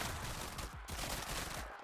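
Rapid bursts of bullet explosions ripping through enemies in the action game Grind Survivors, a dense, continuous crackling barrage of gunfire-like blasts with no talk over it.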